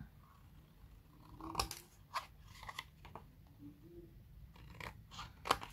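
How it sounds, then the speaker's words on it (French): Scissors snip the paper corners of a handmade mini notebook, giving several quiet, crisp cuts spaced irregularly against a soft room background. "Et je viens couper les angles tout simplement."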